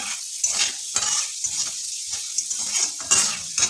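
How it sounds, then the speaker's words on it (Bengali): Tempering spices, three bay leaves and five-spice seeds, stirred in a pan on a gas stove at medium flame for a fish head and gourd dish. Steady oil sizzle runs throughout, with repeated scraping strokes of the spoon against the pan. "একটু নাড়িয়ে নেব।"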